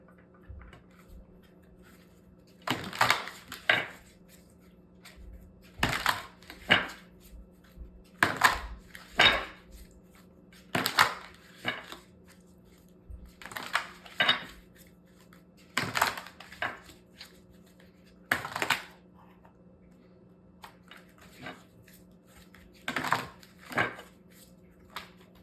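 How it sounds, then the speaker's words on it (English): Tarot cards being shuffled and pulled in quiet bursts of crisp card riffling and slapping, repeating every second or two over a faint steady hum, close and soft. "So let's pull a couple more cards here."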